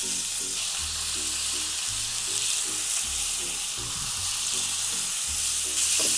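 Pork loin and sliced onions fry together in olive oil in a hot pan, giving a steady, close sizzle with scraping stirs and bursts of crackle, and no voices.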